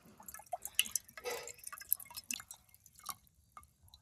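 Water dripping and trickling from a freshly cracked coconut in a village, soft scattered drips and small splashes at close range, faint and irregular with no talk.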